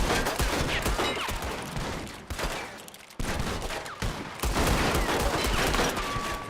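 Rapid gunfire in a Red Dead Redemption 2 shootout, loud and dense bursts of shots with a brief lull near the middle, nearly continuous throughout.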